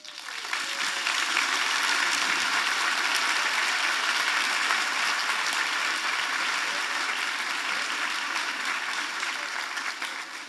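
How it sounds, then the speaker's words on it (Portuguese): Sustained applause from a church congregation fills a worship service, a dense, steady wash of clapping that stays loud and even for about ten seconds with no talk over it. "dê uma salva de palmas para ela."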